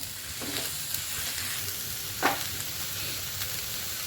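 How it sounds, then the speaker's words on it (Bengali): Chilli egg masala with capsicum fries in a pan, giving a continuous, even sizzle with a brief louder hiss and scrape of stirring midway. "এখন দিয়ে এটা একটু হালকা দুই তিন মিনিট বাজুন"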